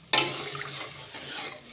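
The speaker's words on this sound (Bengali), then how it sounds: "এখন আমি জল দিয়ে দিচ্ছি" Water poured into a hot potato spice masala gives a sudden loud hiss that bursts up and then fades into a softer simmering sizzle over a second or so.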